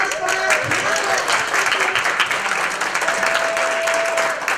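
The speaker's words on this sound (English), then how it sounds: "one big round of applause for our panelists" Town hall audience clapping for a panel of speakers, a steady round of applause with faint cheering, loud and continuous throughout.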